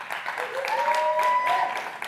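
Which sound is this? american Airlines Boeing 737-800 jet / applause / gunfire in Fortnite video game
applause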